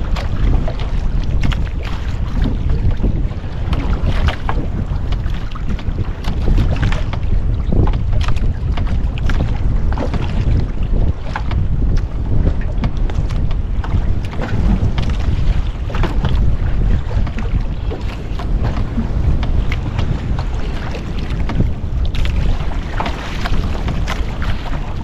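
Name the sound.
strong wind at sea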